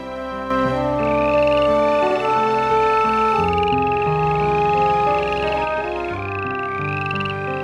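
Frog calling with a horn-like croak, a series of rising, repeated honking notes over a dense, sustained tonal backdrop, loud and continuous.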